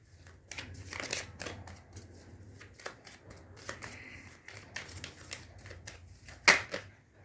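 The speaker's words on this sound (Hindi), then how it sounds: "One more card from this deck." An oracle card is drawn from a deck, with a steady run of close, crisp card-shuffling flicks and riffles, brief papery snaps and a sharper slap near the end.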